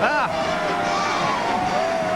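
Crowd at a college basketball game in an arena, Xavier against Dayton, cheering as a broad, loud, sustained roar with a voice speaking over it.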